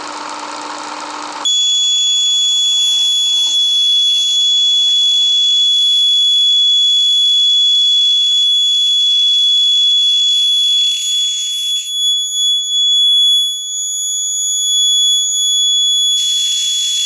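A homemade, temperature-adjustable fire detector sounds its alarm during a heat test. The electronic tone is loud and steady and runs for several seconds, with a short burst of other noise at the start. No one speaks.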